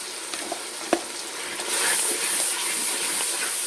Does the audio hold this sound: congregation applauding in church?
no